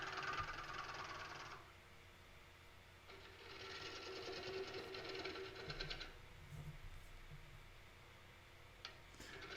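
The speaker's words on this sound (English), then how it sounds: "There I actually sped the lathe up" A wood lathe spins a walnut bowl blank cut from firewood, a steady broadband whir with bursts of gritty tool-on-wood hiss as the speed rises, continuous and close.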